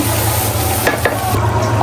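Meat and rice frying in a pan sizzle loudly and steadily just after water is poured in, a dense continuous hiss with a low hum underneath and a few brief sharper spits.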